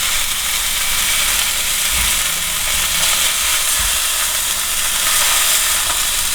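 Beef steak sizzling as it sautés in a pan, a steady broad hiss holding throughout at close range with a few low thumps from handling, no talk over it.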